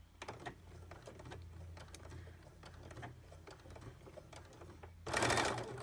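A sewing machine stitches double fold bias onto fabric in a quiet, steady mechanical whirr with light ticks, then speeds up into a louder, denser run near the end.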